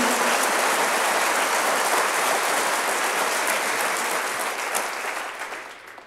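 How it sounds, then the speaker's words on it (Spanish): A church congregation applauds loudly and steadily in a dense, continuous wash of clapping that fades slightly toward the end. "Vamos, dale un fuerte, fuerte aplauso al Señor."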